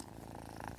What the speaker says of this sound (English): It's a cat purring.